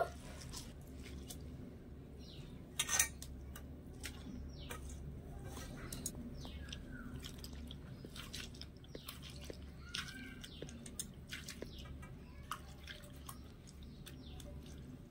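Grated raw potatoes are rinsed in water, making faint scattered drips and small wet splashes at an irregular pace against a quiet background, with one slightly louder splash early on.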